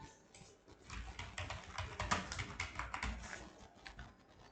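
Rapid, uneven key clicks from a computer keyboard while code is typed for a Laravel e-commerce contact page, steady and close with no talking.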